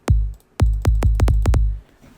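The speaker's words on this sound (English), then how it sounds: "It's a good kick sample" Punchy electronic kick drum hits, one then a short pause, followed by a quick run of about seven booming thumps, loud and dry.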